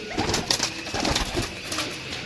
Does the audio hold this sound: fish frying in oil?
no